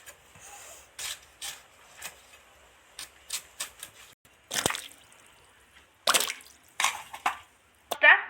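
Mango pits scrubbed and rinsed in water by hand, giving scattered wet rubs, drips and splashes in short bursts, with quieter pauses between them.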